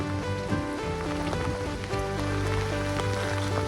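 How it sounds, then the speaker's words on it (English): Heavy rain pours down steadily outside a motorhome, a dense, continuous hiss of drops drumming on a surface, loud and unbroken throughout with no voices. "It's absolutely chucking it down."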